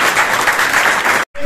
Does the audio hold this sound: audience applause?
yes